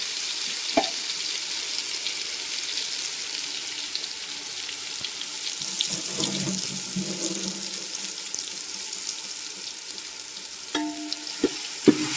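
A steady frying hiss fills the clip as a thick ground masala paste cooks in a pan for raw jackfruit curry, with a few utensil clinks and scraping stirs near the end.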